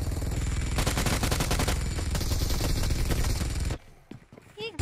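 Rapid automatic gunfire in PUBG Mobile, a dense, loud stream of shots rattling continuously for several seconds before cutting off abruptly, followed by a few faint scattered sounds.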